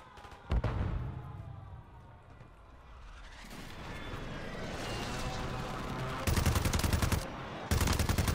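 Gunfire in Call of Duty on Rebirth Island comes in loud, sharp bursts: a blast early on, then rapid repeated shots in two clusters near the end, over steady in-game rumble.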